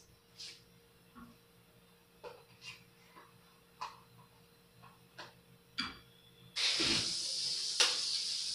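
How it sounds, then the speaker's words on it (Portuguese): Eggs frying in a pan for breakfast in a small kitchen, a loud, steady sizzle that starts suddenly after several soft clicks and knocks and continues close by. "É tão lindo o ovo fritando."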